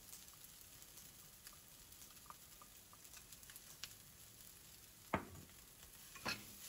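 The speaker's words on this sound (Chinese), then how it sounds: "然后再翻炒一下。" Yakisoba noodles with egg stir-fried in a pan give a faint, steady sizzle with soft stirring, broken by two brief sharper scrapes of the utensil near the end.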